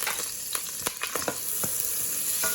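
Butter sizzling in hot oil in a pan for chicken makhani, a steady crackling hiss with scattered sharp pops and spits, close and fairly quiet.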